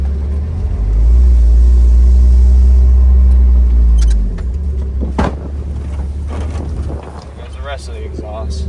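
A Mazda Miata's exhaust rumbles loudly and deeply as it accelerates up a mountain driveway, fading after a few seconds into quieter road and wind noise with a voice speaking over it.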